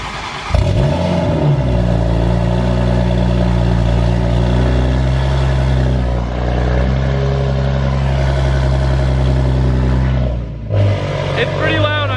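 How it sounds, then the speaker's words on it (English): A Toyota A90 Supra with a titanium exhaust cold-starts close by, firing up abruptly into a loud, steady, booming high idle that holds for about ten seconds before cutting off, with voices talking over it. "It's pretty loud on cold start."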